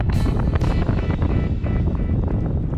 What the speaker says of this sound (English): Wind is so strong I can't keep my line straight here